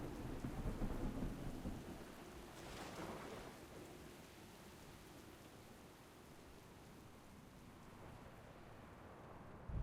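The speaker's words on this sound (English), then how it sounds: "Captain, we can't weather this storm for long." A thunderstorm with rain at sea in World of Warcraft: heavy rain hisses steadily while a low thunder rumble rolls in and swells briefly mid-way, faint and continuous throughout.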